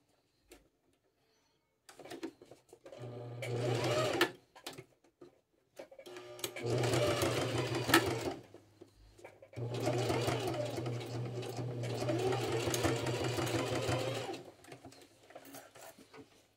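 A domestic sewing machine stitches fabric over a bra cup in two long runs, with short starts, pauses and handling clicks between them; someone speaks briefly in the gaps.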